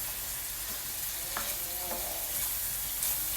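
Onions sautéing in a pan, a steady close frying hiss with a few faint scrapes of a spoon, even and unbroken throughout.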